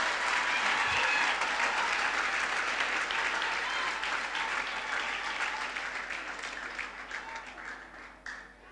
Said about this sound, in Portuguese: Dá ainda uma salva de palmas antes de continuar